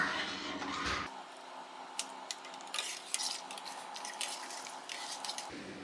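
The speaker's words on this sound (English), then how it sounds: "I'm going to stir it for another 15 seconds" A spoon stirs pasteurized goat's milk in a pot, making soft, quiet scrapes and light clinks in a gentle, uneven rhythm against a low background hum.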